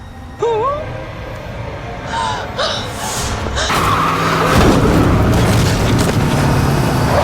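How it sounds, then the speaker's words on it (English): A car in a film scene skids and strikes a person: a loud, sustained crash of rumbling impact noise builds and holds over several seconds, with earlier sliding tonal squeals and music-like tones beneath. "In desperation, Mattson drives her car into Danny"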